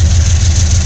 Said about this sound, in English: It seems like these engines are not having any trouble moving that train.